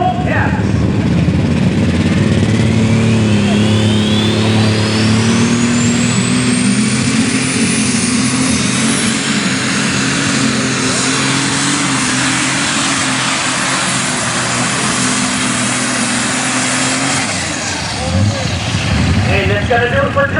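Unlimited super stock pulling tractor running a Brett Long alcohol engine at a Wilmington, Ohio pull, a loud sustained roar with a rising whine as it powers down the track.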